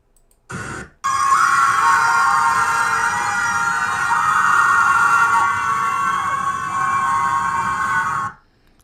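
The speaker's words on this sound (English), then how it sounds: "Sirens." A continuous wailing siren holds steady and loud for several seconds after a brief burst, then cuts off abruptly.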